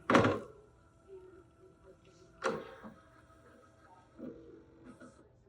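A Husqvarna Viking Topaz 65 sewing machine gets its embroidery unit attached, giving a firm plastic-and-metal clunk at the start, a second sharp knock about two seconds later, and faint smaller clicks and rattles between them.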